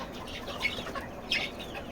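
Poultry coming one by one to drink water give a few faint, scattered clucks and chirps against a soft background hiss.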